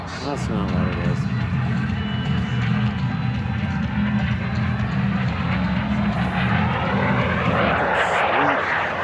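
An aerobatic airplane pulling up at the Lethbridge International Airshow, its engine a loud, sustained roar with a rising, sweeping pitch as it climbs, while an announcer talks over it throughout.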